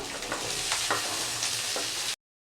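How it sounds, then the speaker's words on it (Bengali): Mixed vegetables sizzling loudly in hot oil with five-spice seeds in a pan, a close, steady crackling hiss with soft scraping stirs, then cut off abruptly. "একটু ঢাকা দিয়ে দিয়ে একটু ভেজে নেবো সবজিটাকে"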